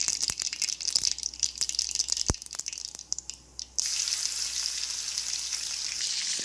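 Cumin and mustard seeds sizzle steadily in hot oil for dahi kadhi, with scattered stirring clicks, then a louder, denser sizzle takes over when garlic is added partway through.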